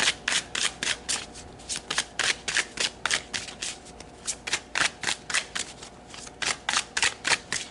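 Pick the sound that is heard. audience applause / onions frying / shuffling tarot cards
shuffling tarot cards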